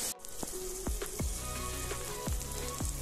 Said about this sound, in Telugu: మిగతా హాఫ్ ఆనియన్ కూడా మొత్తం కలిసి ఫ్రై అయిపోతాయి